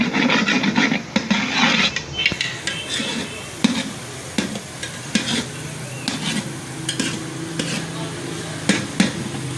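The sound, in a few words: stirring ground onions frying in oil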